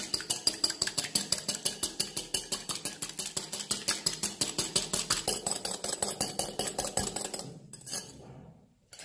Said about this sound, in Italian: Io lo monto con una frustina a mano, il mio albume.